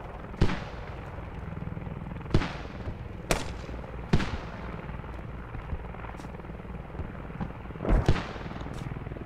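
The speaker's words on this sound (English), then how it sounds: "Keep up those mortars. Good mortars." Mortar fire in the video game Squad at a fire base: several heavy thumping blasts at irregular intervals over a steady rotor-like drone, each blast booming and fading.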